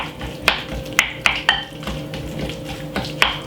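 Butter, garlic and fresh mixed herbs being stirred together in a bowl as a seasoning for Christmas roast chicken: close, soft mixing with several sharp clinks of utensil against bowl at irregular intervals.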